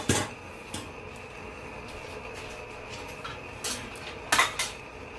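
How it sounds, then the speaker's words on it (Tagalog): Dry pansit bihon rice noodles stirred and turned in a pan, giving a few scattered scrapes and clinks of utensil against metal over a quiet kitchen background. "Halu-haluin lang natin."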